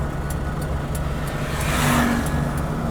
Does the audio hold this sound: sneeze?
no